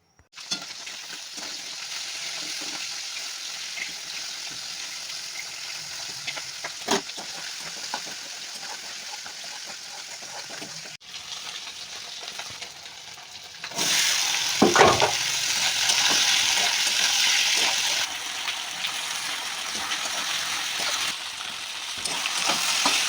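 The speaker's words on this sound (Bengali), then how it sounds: "এখন দুটো ওভেনে দুটো কড়াই চাপিয়ে দিয়েছি রান্না করার জন্য।" Two pans on a home stove, one cooking fish curry, give a continuous frying sizzle with scattered stirring clatters. The sizzle swells noticeably louder partway through, with a bright clatter and a brief hiss.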